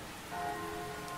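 Rain patters on umbrellas in the otome game Seduce Me, a soft dense hiss of drops that holds steady, with a faint tonal hum underneath.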